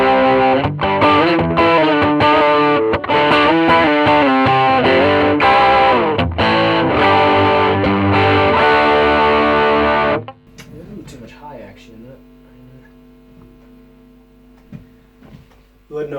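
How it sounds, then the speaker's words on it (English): Electric guitar on the bridge pickup with overdrive, played in dense distorted chords and runs for about ten seconds, then stopping abruptly into faint ringing and quiet handling noise. "let's go back to the bridge pickup. Again, everything up on full, and let's put on a bit of drive."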